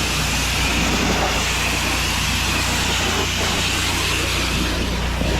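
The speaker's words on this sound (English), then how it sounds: "then we just X-Jet rinse for a high pressure rinse." A pressure washer runs continuously while rinsing paint off a wooden deck, a loud, steady spray hiss over the low drone of an engine.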